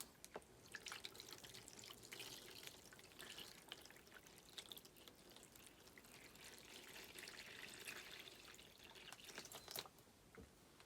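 Purified water pours steadily from a container into a mixing vessel for a bleach bath to reverse-dye fabric, a continuous close splashing trickle lasting the whole stretch with no talking.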